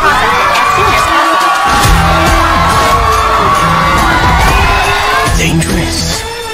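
In-game crowd cheering and shouting in the rhythm game Stepmania 5, a dense, loud roar of voices sustained throughout, layered with a pulsing musical backing track.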